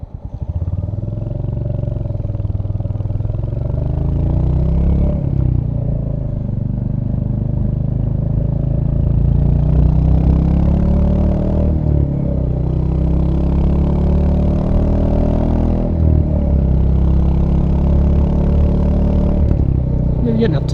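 A Royal Enfield Hunter 350 motorcycle engine pulls steadily as the rider accelerates, a loud continuous mid-pitched drone with rising and falling revs and wind noise throughout.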